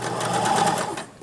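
A sewing machine stitches a duck pillow, whirring close and steadily for about a second before easing off.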